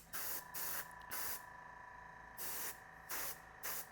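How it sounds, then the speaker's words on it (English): Short bursts of fine hissing airbrush paint spray, five or six pulses of about half a second each, separated by a steady background hum, applying stencil markings on a Top Flite P-51D model plane. "So I've got a very fine spray pattern going on here"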